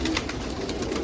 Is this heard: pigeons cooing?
yes